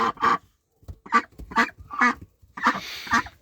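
Loud, nasal honking calls from waterfowl close by, coming in short bursts with brief pauses between them.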